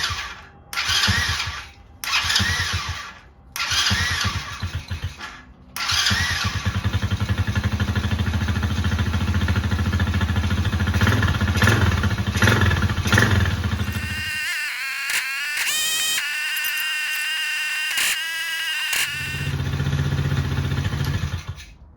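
A Chinese Tao Tao engine runs with its plastics removed while the carburetor is tuned, revving and settling in uneven bursts, then dropping to a steady idle, loud and close, with clattering mechanical noise and no talk.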